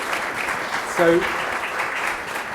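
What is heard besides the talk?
audience applause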